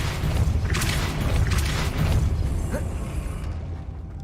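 The Depulso spell in Hogwarts Legacy goes off as a loud, rumbling magical blast with a booming, mechanical rush that holds steady before tapering away.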